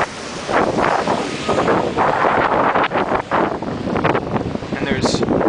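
Strong wind buffets the microphone at Hampton Beach during a storm, with surf rolling in the background and a continuous loud roar throughout.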